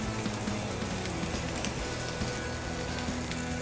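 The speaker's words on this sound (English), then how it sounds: "we're going to drop some burnt ends down onto the flat top" Burnt ends dropped onto an oiled flat top griddle give a dense, steady sizzle that hisses evenly and close up throughout, with no voices.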